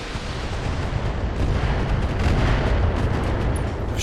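Mech weapons fire in the BattleTech video game, a dense, continuous roar of booming blasts and crackling fire filling the whole stretch at steady loudness, with no speech.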